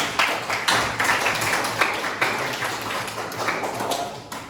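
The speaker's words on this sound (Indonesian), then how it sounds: "kita berikan tepuk tangan untuk kelompok 1" A classroom group claps for group 1 after a presentation, a fairly close burst of uneven claps and taps that thins out toward the end.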